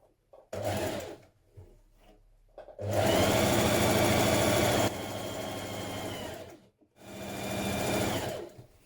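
A sewing machine stitches trouser front pieces together up to the centre slit, running in long steady bursts with brief pauses between, close and loud with no talk.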